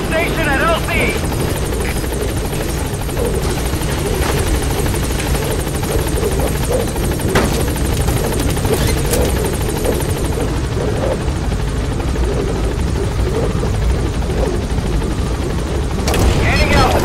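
The Pequod helicopter from Metal Gear Solid V arrives at the landing zone with a dense, steady rotor thrum and engine roar that fill the whole stretch, a brief louder burst near the end.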